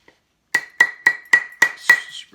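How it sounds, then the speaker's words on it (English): Old metal sugar tongs are hammered onto a mandrel to shape a bracelet, giving six sharp, ringing metallic strikes in an even rhythm, close and loud against silence. "hit these tongs so they start forming"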